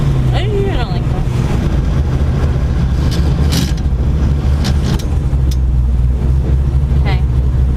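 A car with a sequential shifter, in race mode, pulls away with a steady engine drone and road rumble, loud and close, while a person talks briefly near the start and a few short clicks sound.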